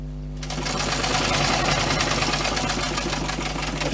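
A sewing machine stitching a simple bushcraft water bottle and utility pouch starts after a brief quiet moment, then runs as a fast, even mechanical rattle, close and loud, without any talking.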